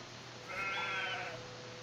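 A sheep bleating once in a farming video game, a single drawn-out bleat of about a second over a quiet, steady background hum.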